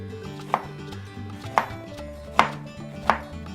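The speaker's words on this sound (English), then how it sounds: "chop my pineapple before any of the other veggies that I'm using, because I'm gonna use the same cutting board" A knife chops pineapple on a cutting board in a kitchen, four crisp, evenly spaced thuds over quiet background music with no talking.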